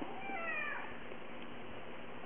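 A single short cat meow, rising and then falling, fairly faint, followed by quiet room noise.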